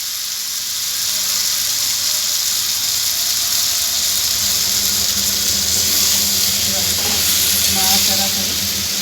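Boal fish heads added to a pan of vegetables and frying with a steady, loud sizzling hiss that continues without a break, with a few faint clinks over the top.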